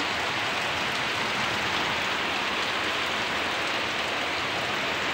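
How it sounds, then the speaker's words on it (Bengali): Heavy rain pours down in a dense, even hiss, with water flooding a street in front of houses; the roar is constant and fairly close, with no voices. "প্রচণ্ড বৃষ্টি, প্রচণ্ড বৃষ্টির জল"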